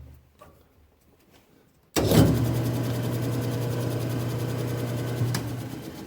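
A cutter spins up abruptly and runs with a steady machine whine and hum while beveling the inside edge of a hole, close and continuous, with one brief knock near the end.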